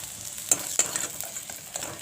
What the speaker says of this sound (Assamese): এইখিনিও ভালদৰে সিজি যোৱাকৈ ফ্ৰাই কৰি ল'ব লাগিব কাচকলখিনিও প্ৰায় হৈ গ'ল